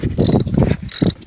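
A ratchet fitted with a 1/2 inch socket clicks in a few quick bursts while loosening battery terminal bolts on a 2005 Cummins, close and fairly loud.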